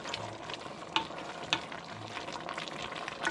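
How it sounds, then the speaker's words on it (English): Beans sizzle and fry in a pan for Bicol Express, a soft steady crackle with occasional stirring clinks, fairly quiet and without talk. "Then we'll just cook the beans, and that's ready."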